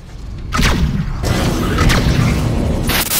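Broadside cannon fire from a spaceship in Rebel Galaxy: heavy, loud booms roll into one another in a dense salvo that fills the whole moment.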